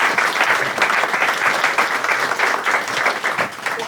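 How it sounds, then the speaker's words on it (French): Audience applause for Emma at a bilingual event, a continuous dense wash of clapping from many hands, fairly loud and close, sustained for several seconds without pause. "vous pouvez applaudir Emma présente à côté de moi."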